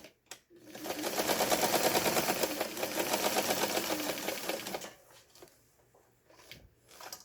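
A 1975 household dress sewing machine, freshly repaired, stitching a straight seam and reverse stitches, with a loud, fast, steady mechanical rattle for about four seconds, then slowing to quieter, sparse clicks.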